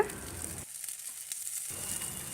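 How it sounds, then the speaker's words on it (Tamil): Okra pieces sauté in oil in a kadai over low to medium flame, producing a faint, soft sizzle that drops away briefly in the middle before returning. "இப்போ கடாயில் சேர்த்தாச்சுங்க நல்லா வதக்கிக்கலாம் லோ டு மீடியம் ஃப்ளேமில்"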